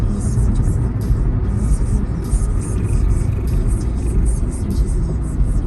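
Close, steady low rumble of car traffic rolling past, a dense road roar with no clear break, with faint voices underneath.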